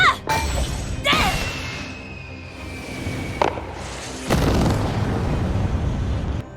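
A cartoon bomb in the anime Shangri-La, struck with a hammer, bursts in a loud blast about a third of the way in, followed by a second heavy boom with rumbling debris near the end, all over a busy animated soundtrack.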